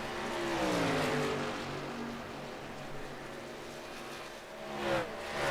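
A race truck engine roars on the oval track at Texas, rising as it approaches and sweeping past with a doppler drop, another engine surging near the end, loud and continuous.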